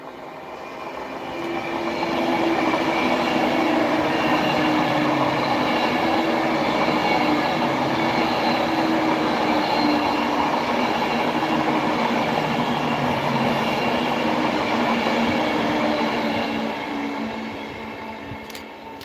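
Train on the West Coast Main Line north of Crewe, approaching slowly toward a red signal; a steady, loud rolling rumble with a faint rhythmic clatter swells in, holds, and then eases off.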